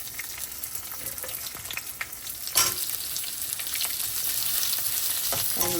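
Onions sauté in a hot pan with a continuous close sizzle, broken by a louder clatter midway and occasional stirring scrapes that build slightly toward the end.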